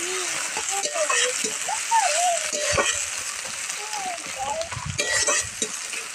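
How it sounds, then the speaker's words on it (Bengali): Chopped onions frying in a pan, a soft continuous sizzle with occasional stirring scrapes, partly under a voice speaking. "ভালোভাবে পেঁয়াজটাকে ভেজে নিতে হবে।"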